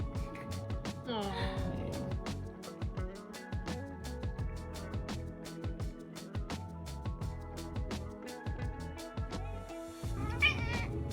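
A cat meows a few times close by while someone talks and coos over it in a calm indoor setting.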